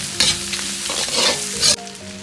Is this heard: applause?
no